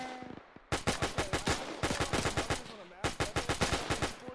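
A US .30 cal machine gun fires in the ARMA 3 WW2 mod during a 1942 beach landing, with loud, rapid, rhythmic bursts broken by short pauses.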